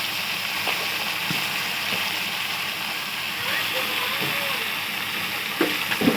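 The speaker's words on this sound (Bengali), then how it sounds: "দিয়ে ভালো করে আলুটি ভেজে নেবেন নেড়ে চেড়ে।" Potatoes frying in a pan give a constant close sizzle, broken by occasional scraping and clinks as they are stirred, with a voice speaking faintly over the cooking.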